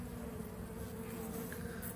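A dense, steady buzz of many native Turkish honey bees humming together in a hive, continuous and close, with no voices.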